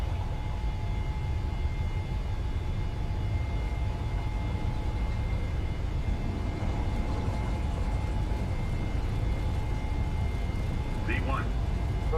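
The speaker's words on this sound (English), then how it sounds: "Look at how slow that takeoff roll is, chat." Steady broadband rumble of a PMDG 737-900ER on its takeoff roll at Denver in Microsoft Flight Simulator, engines at high thrust with a constant low roar throughout and a brief faint chirp near the end.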